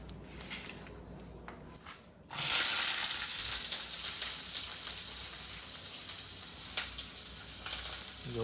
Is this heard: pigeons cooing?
no